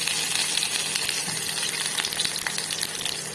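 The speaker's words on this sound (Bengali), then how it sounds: "এবার এর মধ্যে আমি আলুগুলো ভাজার জন্য দিয়ে দেবো" Potatoes and eggplant fry in oil in a nonstick pan with a steady, dense sizzle and crackle that runs throughout, loud and close, with no talk over it.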